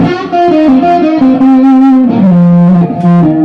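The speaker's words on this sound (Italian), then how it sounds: "Questo è un suono distorto" A distorted electric guitar plays sustained, gliding single notes with a thick, saturated tone, loud and close, without any voices.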